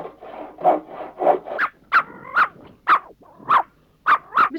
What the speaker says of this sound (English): Now then, first thing is to cut a new length of timber.